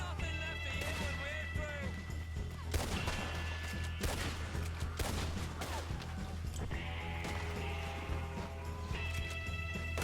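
Repeater rifle shots in Red Dead Redemption 2, several sharp cracks spread across the stretch over game music and ambient effects, fairly loud.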